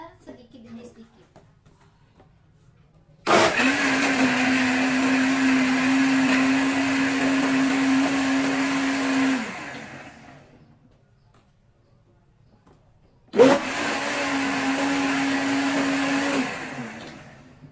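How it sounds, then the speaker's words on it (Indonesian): An electric blender whirs loudly through noni fruit for cough honey, running for about six seconds, stopping, then starting again for a second burst, with a faint voice beforehand. "lalu kita blender sedikit demi sedikit"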